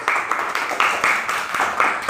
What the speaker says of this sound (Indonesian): Ayo tepuk tangan semuanya.